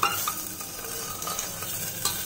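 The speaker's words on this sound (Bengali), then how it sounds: "এই যে এখন মাছ ভাজছি" Fish frying in a small amount of oil in a pan, with a steady close sizzle broken by a few stirring scrapes and light clinks of a utensil.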